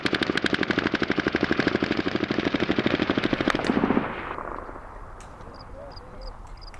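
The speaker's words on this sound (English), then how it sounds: "they're just walking down the alley shooting at nothing" Rapid automatic gunfire from people firing as they walk down an alley, a loud sustained burst of evenly spaced shots for about four seconds, then trailing off into quieter ambience with a few distant sounds.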